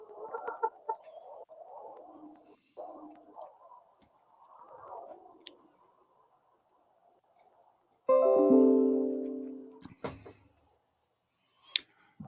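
Rhode Island Red chickens clucking in a pen in Central Oregon, soft murmuring clucks that build into a loud, drawn-out squawk near the end, with a few sharp clicks.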